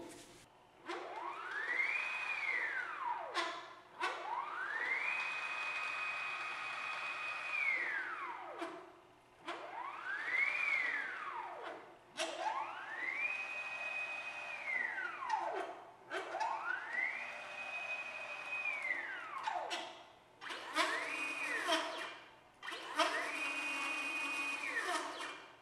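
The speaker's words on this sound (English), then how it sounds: "Okay, so I have all the new bigger stepper motor driver installed here. So let me just check how all the axis moved." Stepper motors driving a CNC mill's axes, each move a whining tone that rises, holds steady and falls as the axis accelerates, travels and slows, repeated about seven times with brief quiet gaps, fairly close and alone.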